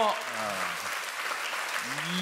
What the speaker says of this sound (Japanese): 鳴りやまない拍手です